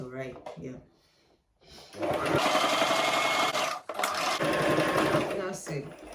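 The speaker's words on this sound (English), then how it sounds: "I'm done stitching right from the band round to this side" A sewing machine runs a zigzag stitch along stretchy fabric while sewing a band for a V-shaped turban, whirring steadily for several seconds after a short pause, with a brief stop near the end and a person speaking briefly at the start.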